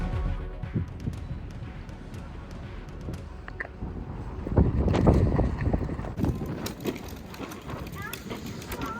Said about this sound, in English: We're getting a lot, and it's very windy out